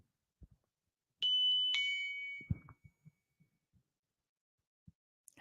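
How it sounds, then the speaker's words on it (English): A two-tone electronic chime rings once, bright and clear, followed by a few soft knocks and thumps in an otherwise quiet room. "Is that Watto's doorbell?"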